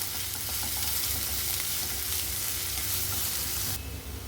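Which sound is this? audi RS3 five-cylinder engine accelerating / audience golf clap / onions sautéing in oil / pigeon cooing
onions sautéing in oil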